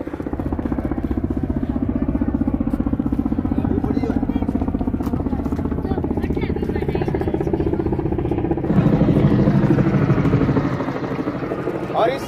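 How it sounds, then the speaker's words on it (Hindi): Indian Navy helicopter passing over the sea near Mumbai's Gateway of India, a continuous loud rotor and engine clatter heard from a boat, with someone talking over it throughout. "और सामने देखिए हेलीकॉप्टर आ रहा है,"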